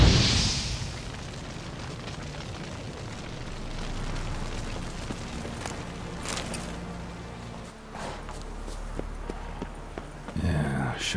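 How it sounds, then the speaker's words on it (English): Igni fire-sign blast cast in The Witcher 3: a burst of flame at the start, then a crackling, rumbling burn with a steady fire roar and occasional pops. Horse hooves and ambient game sound sit underneath. "A shot of Igni."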